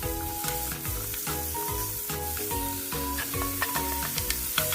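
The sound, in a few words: meat and carrots stir-frying in cooking oil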